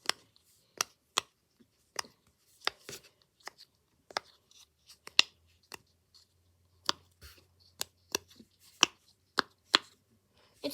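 A rainbow-coloured silicone pop-it fidget bracelet being pressed bubble by bubble, giving a string of sharp, close, dry pops at an irregular pace with quiet gaps between them.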